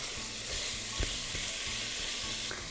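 Minced meat sizzles loudly and steadily in a hot pan for a green bean dish, broken into small pieces with a spatula that gives occasional scraping taps; nearby and with no talk.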